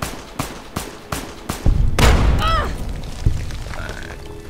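A grenade launcher explosion in the Fallout game, a run of sharp gunshot cracks followed by a deep booming blast that rolls off with a whistling tail, loud and close.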